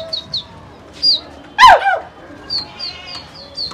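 Pigeons released in a flock give a few short chirps and coo-like calls, with a brief louder flutter of wings in the middle, close by and without talk.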